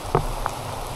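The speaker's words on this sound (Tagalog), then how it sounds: "Kaya inabot na kami ng ulan." Rain falling on a forest trail to a waterfall, a steady soft hiss with a couple of distinct drops tapping nearby.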